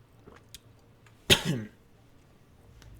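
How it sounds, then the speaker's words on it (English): A single harsh, close cough bursts out once in an otherwise quiet room, with faint rustles and clicks around it. "let me mute my mic and cough for a second"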